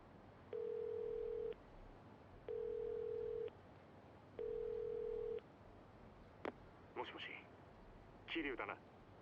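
Payphone dial tone in the video game Yakuza 0: three steady, evenly spaced tone bursts of about a second each, followed by short clicks and brief voice-like game sounds.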